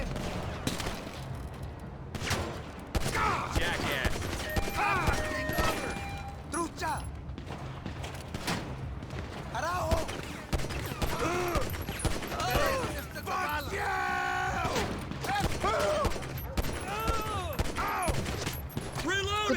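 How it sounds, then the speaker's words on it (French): Rapid gunfire bursts crackle through a GTA V LSPDFR police shootout, sharp shots and volleys scattered across the scene amid game effects and overlapping voices talking throughout. "Coup de feu tiré!"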